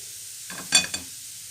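A maize flour fufu crêpe cooking in a pan just after being flipped gives a brief burst of sizzling with a couple of sharp crackles over roughly half a second before fading back to near silence.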